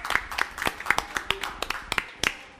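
Cooking class participants applaud themselves at the end of a dessert-making session in Paris, a small group giving scattered, uneven claps over about three seconds.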